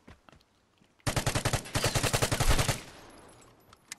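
A rapid burst of automatic gunfire in the video game Vigor on PS5, loud and close, rattling in quick succession for under two seconds before trailing off into quiet.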